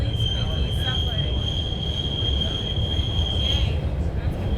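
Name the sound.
squeaky subway train riding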